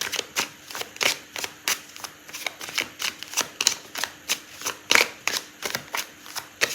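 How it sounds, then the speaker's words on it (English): Tarot cards are shuffled by hand in a quick, rhythmic series of crisp riffling snaps, each burst close and distinct, repeating steadily with no talk. "I'll pull out a card to answer it"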